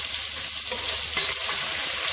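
A large, medium-sized onion sliced long sizzles and fries steadily in hot oil with green chillies and mint, a continuous close hiss with faint stirring, no voices.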